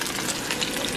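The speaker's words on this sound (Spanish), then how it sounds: "ya estoy friendo la cebolla y los chilitos" Onion and small chili peppers fry in a pan for a chicken broth, giving a dense, steady sizzle and crackle close up, with no voices.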